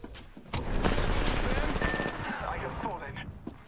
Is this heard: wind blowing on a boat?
no